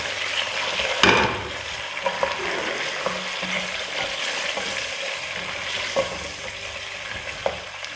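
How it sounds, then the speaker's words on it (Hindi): Chicken sizzling in a pan of hot oil with cloves and small pieces of cinnamon, a steady dense frying hiss with occasional crackles and pops, close and continuous with no talking. "इसमें मैं डाल दूँगी अब ये"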